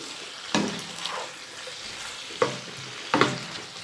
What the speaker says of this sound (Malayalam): ഇനി ഇത് മിക്സ് ചെയ്ത് കൊടുക്കാം.